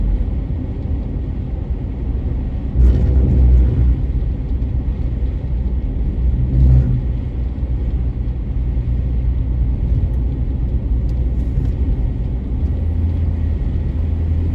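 A car cruises along the highway from May Pen to Williamsfield in Jamaica, held below the speed limit, giving a steady low road rumble and engine drone throughout with brief swells, and no voices.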